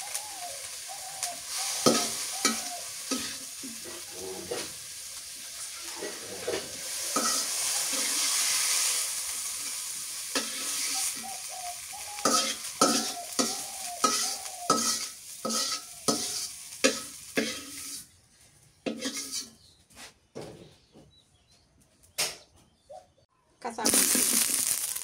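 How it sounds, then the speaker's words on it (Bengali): Garlic leaves and coriander stir-fried together in a pan for a village-style iftar, with steady sizzling and repeated scraping stirs that grow choppier and sparser toward the end, under occasional talk. "নার পাতা, রসুনের পাতা, ধনিয়া ঘেমে নিলাম একসাথে"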